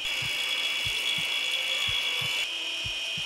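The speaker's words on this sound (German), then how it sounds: "die Säge hat ausgedient. Die scheint da nichts zu bewirken." Surgical saw in the video game Surgeon Simulator 2013, several short rasping strokes at an uneven rhythm over a steady high hum, close and fairly quiet.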